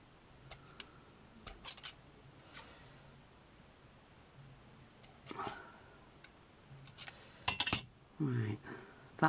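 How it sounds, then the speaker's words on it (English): Oversized scissors snipping a miniature beach flip-flop for a seaside surfing shack model: a few sharp, quick clicks and cuts scattered through a quiet room, close by, alongside small handling noises. "My scissors are a little bit too big for this"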